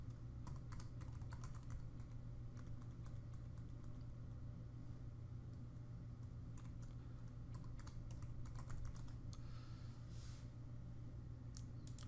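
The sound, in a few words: typing a password on a computer keyboard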